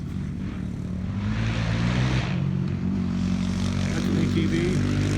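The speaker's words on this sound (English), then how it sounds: "That's an ATV." An ATV drives past on a rural road near a creek bridge, a loud, continuous droning engine that swells as it nears and holds steady, close and noisy with a faint background voice.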